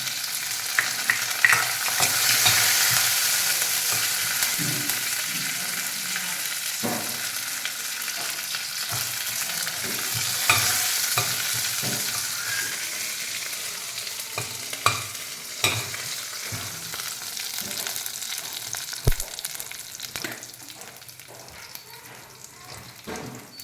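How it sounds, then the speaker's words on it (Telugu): Garlic, cumin seeds, chilies and curry leaves sizzle steadily in hot oil for pepper rasam, a continuous close frying crackle with occasional spoon scrapes and stirring clicks, no voices. "తెల్లగడ్డలు వేగిపోయినాయి"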